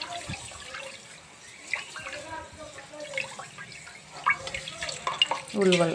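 Horse gram being washed by hand in water, with soft irregular sloshing and splashing close by at moderate volume, building to a louder swirl near the end.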